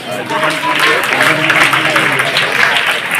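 Students applauding after a speech at a school celebration, a sustained burst of dense group clapping that stays fairly loud and even throughout.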